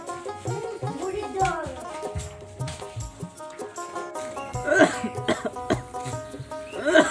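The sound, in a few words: cough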